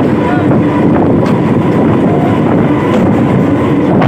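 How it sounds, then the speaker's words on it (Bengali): A train pulls into a station with a loud, continuous rumbling roar close at hand, steady throughout with wind buffeting the microphone. "ওই যে ট্রেন চলে আসছে চলো ট্রেনে উঠতে হবে"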